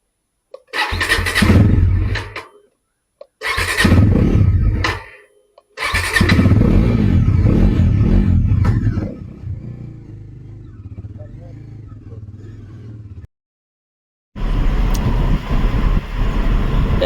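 A motorcycle starts up and pulls away through its gears, with loud engine bursts and gaps between them, then a long fading run and another loud stretch near the end. No talking is heard.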